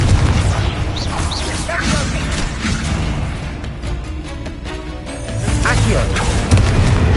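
A Confringo fire-blast spell goes off during combat in the video game Hogwarts Legacy: loud, dense booms and crashes layered with whooshes and continuous battle noise, and voices are heard through the mix.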